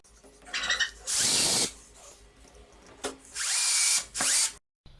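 Cordless Einhell TE-CD 18 Li E drill driving long screws into a ceiling, two loud sustained whirring bursts of about half a second each, with quieter handling sounds between and no talk.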